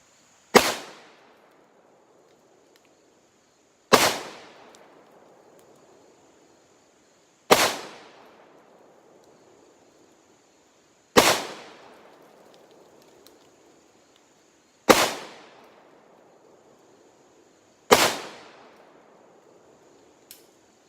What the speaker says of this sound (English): I'm gonna let y'all see me shoot it a little bit more.